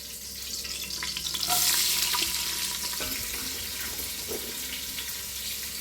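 Chopped onions hit hot oil in a pot for beef biryani, with a brief surge of hissing sizzle followed by a steady, close frying sound and a few light stirring knocks.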